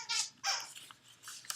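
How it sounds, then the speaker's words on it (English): A pet dog plays somewhere in the room, giving short bursts of yips, whimpers and barks at moderate level across a little over a second, with no talk over it. "that's my dog in the background playing."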